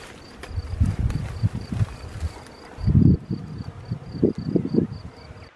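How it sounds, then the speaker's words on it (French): A steady, soft buzzing of a natural honeybee swarm hums throughout, fairly close, with occasional rustling and low bumps but no talking. "Vous voyez, un essaim, c'est extrêmement paisible."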